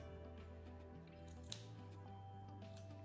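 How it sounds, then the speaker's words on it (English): Scissors snipping the edges off fabric for a dog bandana, a few quiet cuts with one sharper snip midway, over steady background music and no speech. "To make it look nicer, you can cut off the edges"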